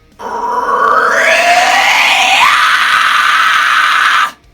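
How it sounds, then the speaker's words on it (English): A single sustained vocal fry scream, loud and close, rising in pitch partway through before holding steady for about four seconds and cutting off abruptly. "the wider you open your mouth, the higher pitch your scream's going to be"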